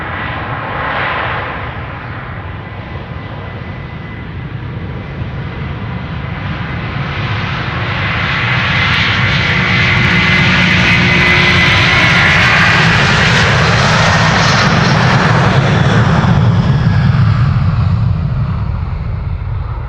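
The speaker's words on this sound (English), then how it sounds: "Delta Airlines Flight 47 next to take off. That's a regular A330-300 to New York, JFK." Delta Airlines Airbus A330-300 jet takes off at Amsterdam Schiphol Airport, a loud continuous engine roar that swells as it passes close and stays strong throughout, with no voices.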